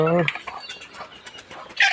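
A farm chicken gives short clucking calls at the start and again near the end, with voices in between.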